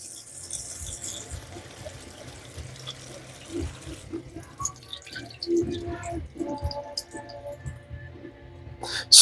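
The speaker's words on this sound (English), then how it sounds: "Some people just don't like the extra salty flavor of capers. So that's the reason why they're asking you to rinse these." Capers rinsed under a kitchen sink tap: a running water stream with trickles and splashing drips, close by, shifting as the flow changes and the capers are moved about.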